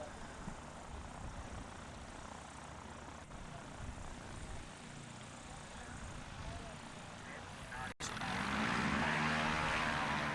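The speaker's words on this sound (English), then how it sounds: "while the planes are coming back" STOL airplanes taxi and fly back after landing at a short takeoff and landing competition in Brainerd, Minnesota, a steady propeller drone under commentary, swelling suddenly louder near the end.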